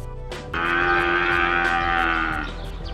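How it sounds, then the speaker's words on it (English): A buffalo lets out a single long, loud low moo lasting a couple of seconds, close up and alone, drawn out steadily before trailing off. "Buffalo."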